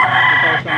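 A young gamecock crows at a live poultry auction, a loud, close, strained call filling under a second.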